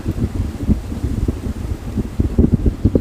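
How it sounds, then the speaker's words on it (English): Strong wind buffets the microphone in heavy, gusting low rumbles that rise and fall continuously, with no voices. "It's insane how windy it is."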